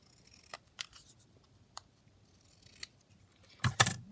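Scissors snip through paper while trimming pieces for a handmade junk journal, a few sharp isolated cuts spaced apart, then a louder cluster of snips at the end, close and otherwise quiet.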